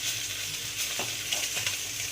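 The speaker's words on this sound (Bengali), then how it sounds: "মাথাগুলোকে ভালো করে ভেজে নিতে হবে।" Fish heads fry in a pan with a steady, close hiss of hot oil, and soft stirring scrapes appear near the middle and end.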